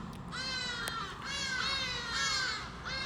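Hadeda ibises give loud, harsh, drawn-out calls in several repeated bursts, close and overlapping, set against steady background noise.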